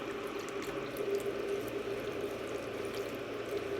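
Broth from a carton pours steadily into a soup pot of chicken and vegetables, a continuous liquid splashing and gurgling that runs unbroken and fairly close, with no talking.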